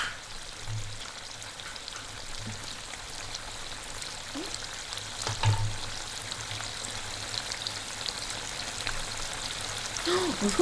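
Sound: food sizzling and bubbling

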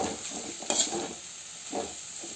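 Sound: dried chillies and curry leaves frying in a pan, stirred

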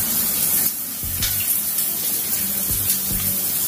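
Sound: outdoor shower running water

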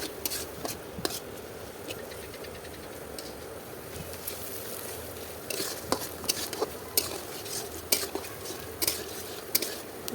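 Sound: green chili, onion and garlic frying with turmeric and salt

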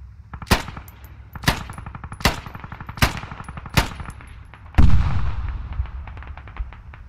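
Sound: gunfire in a video game

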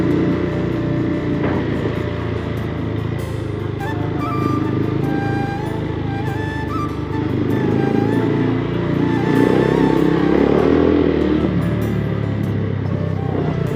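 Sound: motorcycle engine while riding

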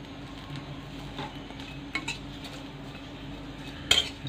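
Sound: removing fried potatoes from the pan

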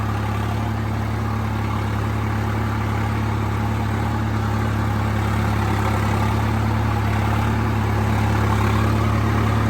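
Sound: 4x4 tractor engine running in field

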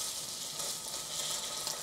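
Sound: butter melting and sizzling in a pan before searing pork

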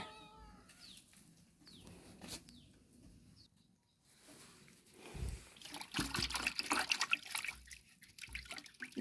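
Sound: water while washing items one by one

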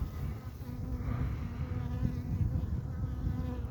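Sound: honeybees buzzing in combined nucleus hives in winter

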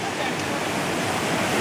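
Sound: Neergarh Waterfall rushing water near Rishikesh, India

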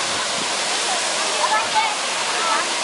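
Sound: Jeongbang Falls waterfall, Jeju

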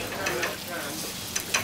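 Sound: food sizzling in a frying pan

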